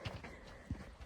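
Horses walk outdoors on a mountain trail, their hooves clip-clopping in a few soft, muffled thuds at a distance beneath steady background noise.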